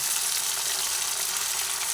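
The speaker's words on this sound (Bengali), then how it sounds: "পেঁয়াজ আর ক্যাপসিকাম ভাজা হচ্ছে গ্যাসের ফ্লেমটা একটু কমিয়ে দিয়ে ভেজে নিচ্ছি" Onion petals and capsicum fry together in a pan over a lowered gas flame, giving a dense, even, steady sizzle that stays constant throughout with no talking.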